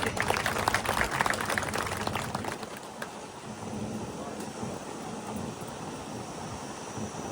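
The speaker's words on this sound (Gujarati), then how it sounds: "ખૂબ તાળીઓથી આપણે અભિનંદન આપીએ" A crowd at a ceremony honouring a retired CRPF jawan claps warmly. The applause starts dense and fairly loud, then gradually thins and fades into a softer patter with background noise.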